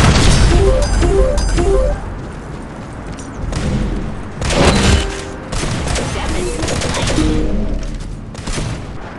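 Blasts and crashing bursts during a gun war game, several loud booms and rattling impacts spread over the clip with short gaps, close and harsh.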